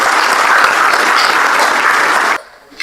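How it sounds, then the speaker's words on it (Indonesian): Secondary-school class applauding a student during a biology lesson on cells; loud, close, steady clapping from many hands that stops abruptly near the end. "Kasih tepuk tangan, nak."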